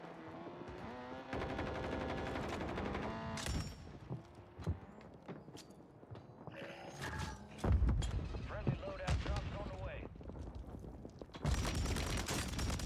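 Gunfire in a Warzone match, including shots outside a building, heard as sharp bursts and scattered reports over game noise, with people talking throughout.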